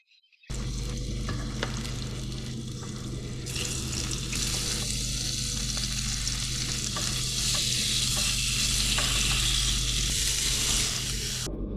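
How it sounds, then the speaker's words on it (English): Squid pieces shallow frying in a pan in a busy camp kitchen, giving a steady, loud, hissing sizzle that runs unbroken throughout, with faint clinks and stirring underneath and no talking. "We're going to go and shallow fry them now"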